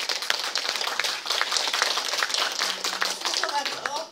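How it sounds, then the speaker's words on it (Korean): An audience claps for the singers at a group singing session, dense steady applause throughout with voices talking over it. "앞에 우리 불러주신 분들을 위해서 다시 한번 큰 박수"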